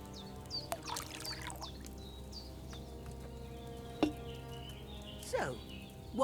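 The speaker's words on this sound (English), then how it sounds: "So, what did you pour in there? Wine, of course." In Kingdom Come: Deliverance II, wine is poured into a cauldron: a soft, faint liquid trickle over a low steady hum, with a few light knocks and splashes near the end.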